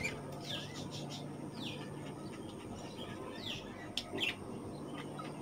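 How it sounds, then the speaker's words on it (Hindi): Lotan pigeons in a breeding setup, with soft chirps and squawking calls over a steady low background hum; a few louder, sharper calls come near the end. "हमारे लोकल भाषा में इन्हें लोटन कबूतर भी कहा जाता है"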